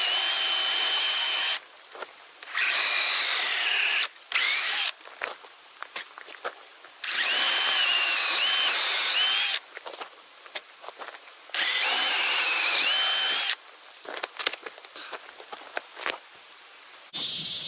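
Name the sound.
power drill drilling holes in wood for kayak rack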